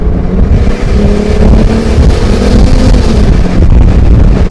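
A turbocharged Mercedes-Benz W124 300CE coupe's M103 engine, running about 9 psi boost, roars continuously close by, its deep rumble swelling and easing slightly as the throttle is held open.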